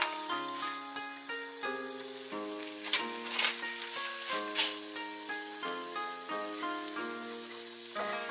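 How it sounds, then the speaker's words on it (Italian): Butter melts and flour cooks in a pan, giving a soft, steady sizzle with a few louder crackling bursts under prominent background music. "Sciogliamo 20 g di burro in un'altra padella. Aggiungiamo 2 cucchiai di farina."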